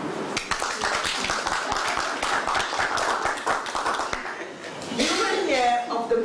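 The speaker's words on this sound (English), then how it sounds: "Colleagues, let us applaud our ministry" An audience applauds the ministry at a news event, a steady patter of many hands clapping throughout, with murmuring and brief voices over it near the end.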